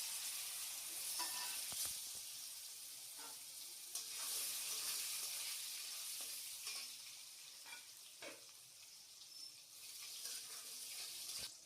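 Raw green bananas fry in hot oil for Bengali shukto, a steady close sizzle with scattered stirring clicks and spatter pops running throughout.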